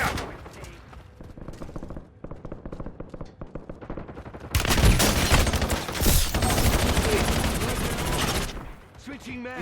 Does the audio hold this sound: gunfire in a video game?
yes